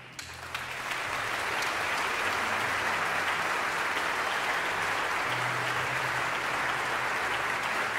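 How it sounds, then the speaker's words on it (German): Sustained applause from a concert audience for a Ukrainian mezzo-soprano at a live opera benefit, a dense steady clapping that starts abruptly and continues evenly throughout without talk. "Ich bitte nochmal um einen besonderen Applaus für die ukrainische Mezzosopranistin Nicole Tschirka."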